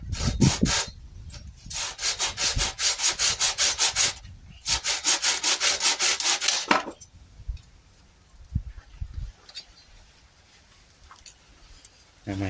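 Hand saw cutting through dry, hard wood for a garden ornament, steady back-and-forth rasping strokes in two bursts, close and loud, followed by quieter handling and knocks.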